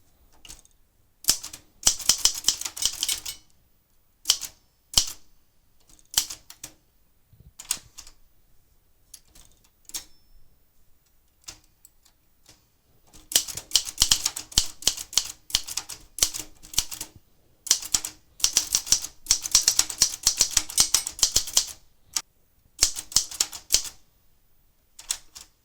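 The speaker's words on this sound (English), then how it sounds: "This is what it sounds like to use my Royal Safari typewriter." Rapid bursts of clacking keystrokes on a Royal Safari manual typewriter, the typing coming in fast clusters separated by short pauses, close and crisp, with no voices.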